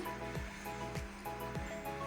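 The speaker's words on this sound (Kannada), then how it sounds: "ನೀರು ಕುದೀತಾ ಇದೆ." Water boiling in a pot on the stove while making uppittu (semolina upma), a steady close bubbling hiss that runs unbroken through the whole moment, with a few soft knocks recurring at a regular pace.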